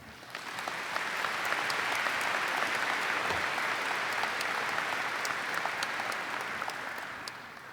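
A commencement ceremony crowd applauds steadily, dense clapping rising quickly and holding at full strength before beginning to fade.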